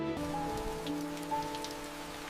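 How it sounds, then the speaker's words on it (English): Rain falls steadily on a surface as a soft, continuous patter, with a faint sustained tone running beneath it. "The same rain that fed the earth now cleanses the skyline."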